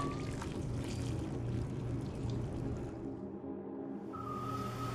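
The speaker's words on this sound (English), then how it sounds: "Pour 1/2 of the remaining soup stock into each of the bowls" Soup stock poured from a pot into bowls in a kitchen, a soft steady liquid splash over low background hum, fairly faint and close, briefly dropping away near the end.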